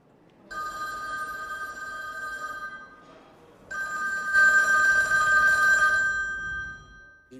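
A telephone bell rings in two long bursts separated by a short pause, bright and metallic, the second burst louder.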